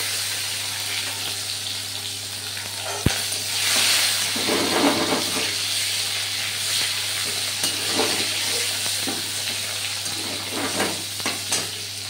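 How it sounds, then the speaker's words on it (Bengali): Chopped tomatoes fry in fish-frying oil, a steady close sizzle and hiss with soft stirring scrapes and one sharp utensil tap near the start, no talking. "টমেটো কুচি ভাজতে ভাজতে"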